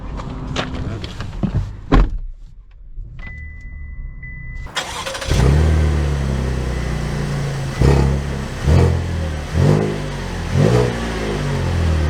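A 2023 Buick Enclave Avenir SUV starts up after a door thump and a quiet pause, then its engine settles into a loud, steady running drone with surges of acceleration close by.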